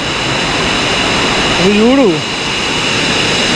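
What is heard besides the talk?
waterfall at Kaasipatnam near Araku Ghat road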